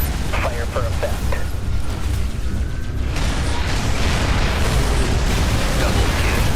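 Artillery strikes hit in a video game, with heavy booming blasts rolling into a sustained rumble that fills the second half, while a voice talks over the early part.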